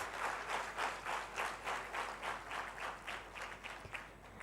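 Students at an Advanced Diploma in English graduation ceremony give a round of applause, a sustained, moderately loud clapping that swells and eases in gentle waves.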